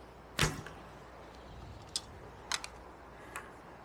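A bow shooting an arrow with the string released without twist: one sharp, loud twang-thwack near the start, followed by a few faint, brief ticks and clicks scattered through otherwise quiet surroundings.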